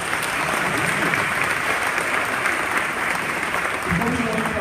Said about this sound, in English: another round of applause for our soloists